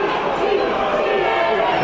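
Football crowd behind the goal at a Swift Hesper vs The New Saints Conference League qualifier, a loud continuous roar of massed voices appealing for a penalty, with a radio commentator speaking over it.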